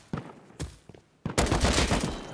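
Sustained AK rifle fire in the video game Rust, several sharp shots first and then a dense, loud burst of rapid gunfire filling the final second.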